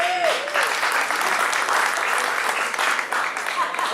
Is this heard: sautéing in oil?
no